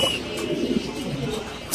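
Mini king pigeons at a fancy pigeon farm make a brief, soft, low cooing burble close by, with some background noise.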